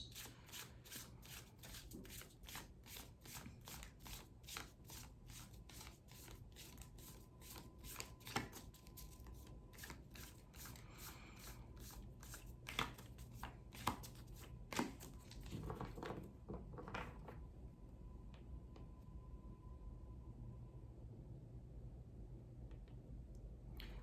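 Tarot cards being gathered and shuffled, a steady run of rapid papery riffles and flicks up close, with a few sharper taps of the deck mid-way before the shuffling thins out.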